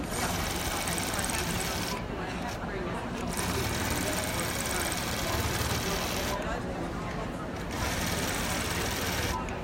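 A Gammill longarm quilting machine stitching a swirl feather fill at a quilt market gives a continuous mechanical whir, steady throughout, with low background chatter from the market floor.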